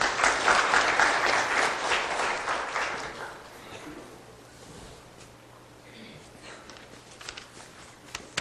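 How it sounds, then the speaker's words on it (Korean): A church audience at a house-church testimony and prayer meeting claps warmly to welcome a speaker, a dense burst of applause that fades after a few seconds into quiet room noise with scattered claps. "박수로 여러분 맞이해 주시기 바랍니다"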